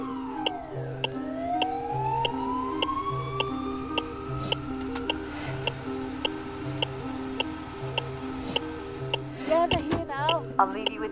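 A wailing ambulance siren sweeps up and down over a steady rhythmic ticking, growing more prominent as it approaches during a cardiac arrest response, with a brief voice near the end.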